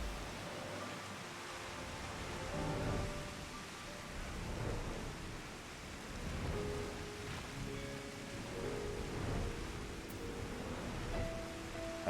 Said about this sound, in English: I'm not surprised that it would be rainy.